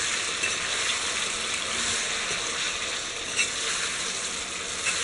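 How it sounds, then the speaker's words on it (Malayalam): Beef sizzling and frying in a pan for Kerala-style beef fried rice, a loud continuous crackling hiss with occasional stirring scrapes and no voices. "നമ്മൾ ബീഫ് സെപ്പറേറ്റ് വേവിക്കുന്നില്ല, അതുകൊണ്ട് തന്നെ നന്നായിട്ട് ഫ്രൈ ചെയ്ത് എടുക്കണം."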